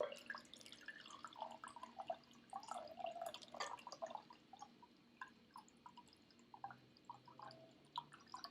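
Water pouring and trickling into a glass for drinking, faint and intimate with small drips and splashes scattered over several seconds in a quiet room.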